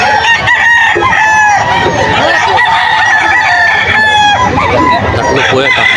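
Stag roosters and other chickens at Bocaue market in Bulacan, loud nearby crowing overlapping with clucking from several birds, a busy continuous chorus with voices faintly underneath.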